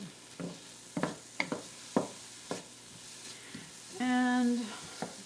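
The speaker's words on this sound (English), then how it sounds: "I love the smell of cooking onions, don't you?" Onions cook in a pan for winter squash soup, a soft low sizzle beneath repeated utensil taps and scrapes, with a short tonal clink or hum near the end.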